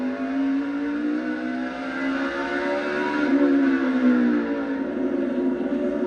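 A NASCAR race car engine at Martinsville holds a high, steady scream at 8,700 RPM, loud and sustained, with the pitch swelling slightly and then easing.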